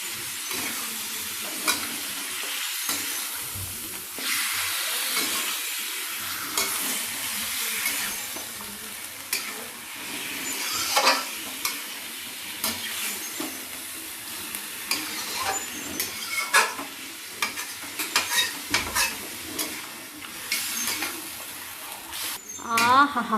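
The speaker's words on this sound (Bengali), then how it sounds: "মাংসটা এবার দিয়ে দেওয়া হলো কড়াইতে।" Mutton frying in oil in a kadai, an ongoing hiss and crackle with irregular stirring clatters that grow busier toward the end.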